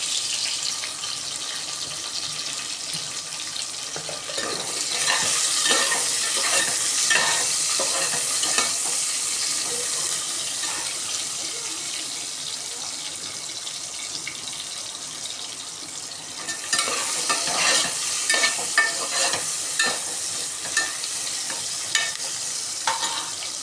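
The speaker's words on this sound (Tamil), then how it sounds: "வெங்காயம் வதங்கிடுச்சு" Chopped onions sizzle in hot oil for mutton biryani, with a spoon stirring and scraping through them in irregular bursts. A faint running-water or rinsing noise joins midway. Nobody speaks.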